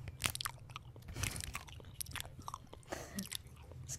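Gum is chewed close to the microphone, giving continuous wet, smacking crunches and clicks in an uneven rhythm with no talking.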